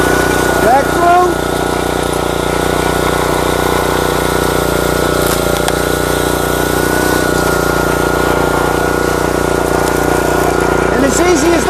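A log splitter's motor runs at a steady idle, a continuous mid-pitched engine drone that holds unbroken throughout, with faint voices in the background.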